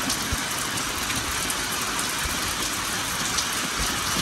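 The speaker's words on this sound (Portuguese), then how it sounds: "Assim que a gente chegou, Deus mandou chuva." Rain falls steadily outside, a dense even hiss of drops with occasional heavier patters, alone and fairly loud throughout.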